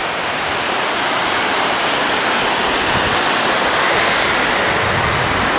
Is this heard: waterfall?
yes